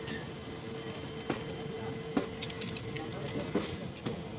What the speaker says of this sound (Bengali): এই স্টেশনটায় ট্রেন তো দাঁড়ালো না